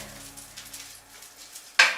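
Quiet kitchen shuffling gives way to a sudden loud sizzle as chopped onion hits hot lard in a pan, the hiss starting sharply near the end.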